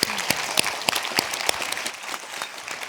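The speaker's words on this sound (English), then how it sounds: "Let's give her a round of applause." Audience applause at an Arctic youth cities event, dense, continuous clapping from a crowd, fairly quiet and distant, without speech, holding steady for a few seconds.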